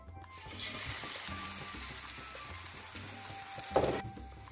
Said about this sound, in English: dip both sides and toast on a low heat